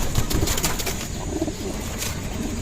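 Pigeons kept by a fancier coo and flutter at close range, with soft wing flaps and throaty calls blending into a steady rustling background.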